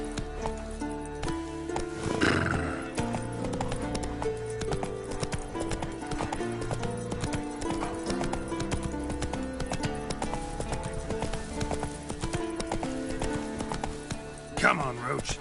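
In The Witcher 3, the horse Roach gallops with steady hoofbeats and whinnies near the start and again at the end. Game music plays underneath throughout.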